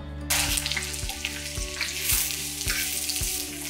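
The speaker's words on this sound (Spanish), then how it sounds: "vamos a sofreír la cebolla" Chopped onion sizzles in a hot pan for Chinese fried rice, a steady loud frying hiss with rhythmic stirring knocks and scrapes roughly every half second, with no talking.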